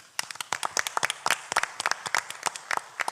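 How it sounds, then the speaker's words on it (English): A small crowd at a city council meeting gives a round of applause for fire captain Al Gomez and Engine 65. The clapping is close, with distinct individual claps and a short, uneven rhythm. "Let's give them a round of applause."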